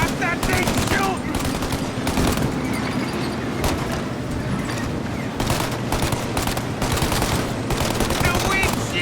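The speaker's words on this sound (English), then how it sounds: "Stop that thing shooting!" Sustained machine-gun fire rattles loudly in the Mafia Definitive Edition video game, with rapid bursts layered over engine noise and occasional impacts, and shouting voices come through the din.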